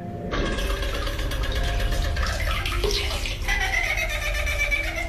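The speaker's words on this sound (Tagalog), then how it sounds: "bigla na lamang gumana ang gripo na ito" Water gushes steadily from a tap, a strong continuous splashing hiss starting abruptly and running on, close by and without voices.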